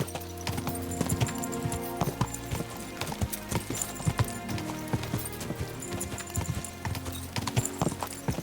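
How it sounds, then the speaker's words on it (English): Horse hooves clip-clop in Kingdom Come: Deliverance II, a steady, fairly close run of hoofbeats on hard ground with an occasional snort, and no talk over it. "What a beautiful horse."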